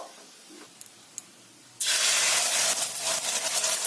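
An egg drops into hot oil in a pan and sizzles at once, a sudden loud, steady hiss that fills the rest of the moment after a few faint clicks beforehand.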